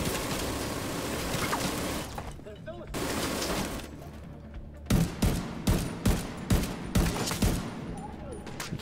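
Bursts of machine gun fire in the Division 2 video game, a run of rapid, regularly spaced loud volleys after a stretch of background combat noise, with a voice talking at times.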